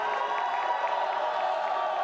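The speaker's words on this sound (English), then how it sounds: "Crowd getting pumped up." Spectators at a collegiate pickleball national championship match cheer and shout in a steady, dense roar of crowd noise that fills the whole moment without pause.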